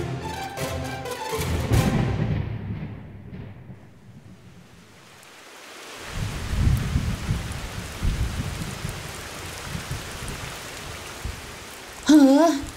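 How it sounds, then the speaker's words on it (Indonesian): Heavy rain pours down after clear weather, a dense continuous hiss that swells, eases briefly, then returns strongly, with low rumbles like distant thunder beneath it. "Kenapa malah hujan deras?"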